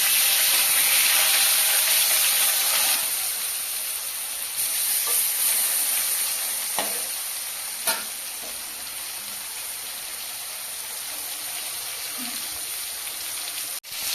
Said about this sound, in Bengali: তেলটা গরম হয়ে গেছে, আমি মাছগুলোকে দিয়ে দেব